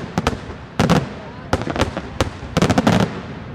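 Daylight fireworks show at the Sant'Antonio Abate festival in Cicciano, near Naples, with clusters of loud sharp bangs and crackling bursts coming in several rapid volleys separated by short pauses.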